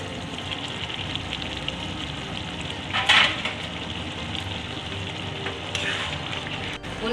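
Cashew paste goes into a hot frying pan for paneer dum and is stirred, giving a steady close sizzle with a brief louder splutter and scraping stir strokes.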